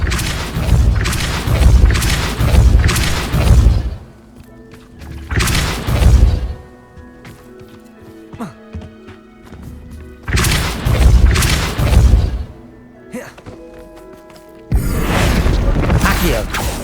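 Depulso force-push spell blasts in the Hogwarts Legacy video game: loud thudding booms in bursts, some doubled, separated by quieter gaps of creaks and mechanical clatter, with the last blast sustained near the end.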